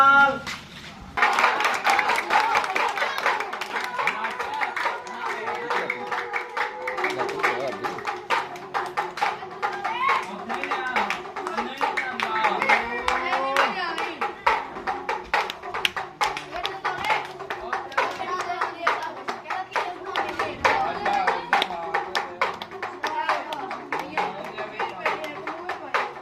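Children clap their hands at a street monkey show, a steady patter of uneven claps mixed with singing and voices throughout.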